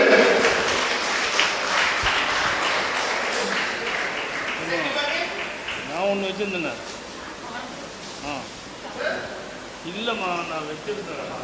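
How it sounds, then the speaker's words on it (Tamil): Applause from a packed hall at an All India Tamil Sangam awards ceremony, clapping loud at first and thinning over several seconds, with a voice talking over and after it. "ஒரு பலத்த அரங்கம் மிகுந்த கைத்தட்டல்கள்."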